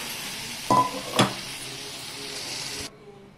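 Cooked mung beans drop into a hot pan and get stirred, with a steady frying sizzle throughout, two sharp clatters of spoon against pan near the start, and the hiss cutting off abruptly at the end.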